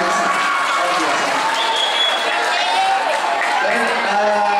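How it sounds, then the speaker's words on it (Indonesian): School students at a junior high school's Friday morning gathering applaud their friends, a busy crowd of clapping mixed with chatter and lively voices, loud and continuous throughout. "Tepuk tangan dulu buat teman-teman ini ya"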